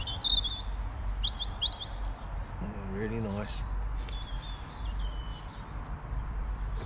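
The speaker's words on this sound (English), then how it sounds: "Load of bird song." Birds sing on a spring morning at a Lincolnshire waterside where kayaks and moored boats sit, bright chirps and whistled phrases coming from several directions at moderate distance, while someone speaks briefly nearby.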